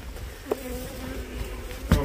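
Bees buzzing inside an abandoned house during a killer bee maze walk-through, a steady low drone with two brief louder thumps, no talking.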